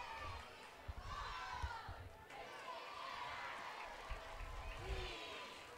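A crowd cheers and shouts at a Kearns high school football game, with the roar sustained at a steady, moderately distant level and swelling in waves.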